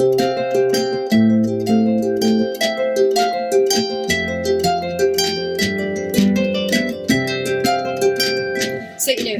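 A harp is strummed in an accented strong-soft-soft rhythm over a looped pattern, bright plucked strings ringing over sustained low notes, loud and continuous with no voices.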